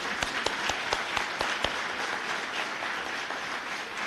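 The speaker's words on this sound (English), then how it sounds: "Give them a round of applause." Applause at a city's State of the City address, with a crowd clapping steadily and moderately loud, a few sharper individual claps standing out near the start before it settles into an even patter.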